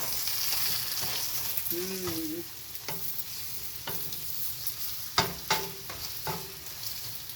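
Aloo paratha frying in olive oil on a hot pan, a steady broadband sizzle with scattered crackles and a few sharper pops and scrapes toward the end, close and moderately loud.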